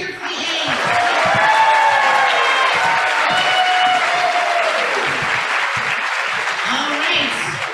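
Sustained applause with some cheering fills a room at a university education pin ceremony, a dense steady clapping crowd that swells and then tapers slightly toward the end.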